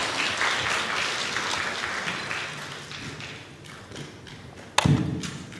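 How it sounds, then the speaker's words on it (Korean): A church congregation at a Korean revival service applauds with dense, steady clapping that fades slightly, followed by a loud thump near the end. "박수 합시다"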